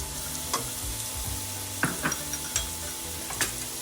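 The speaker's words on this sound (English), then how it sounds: "Once the wok is nice and hot, then I'm gonna start by cooking the shrimp first." Small shrimp fry in hot oil in a wok with a steady, close sizzle, punctuated by a few sharp clicks and scrapes of a utensil against the metal.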